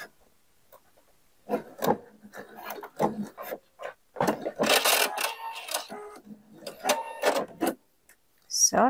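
A home sewing machine stitches a baby jumpsuit seam forward and back in several short whirring runs separated by pauses, close and fairly loud, with brief handling rubs between bursts.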